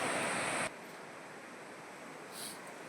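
Rushing water fills wide canals at the Harike headworks: a dense, steady roar that is loudest for the first moment, then settles into a constant wash with a slight swell near the end, with no voices.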